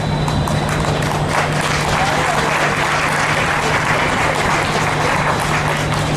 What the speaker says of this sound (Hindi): तालियों से स्वागत में कमी नहीं आना चाहिए दोस्तों।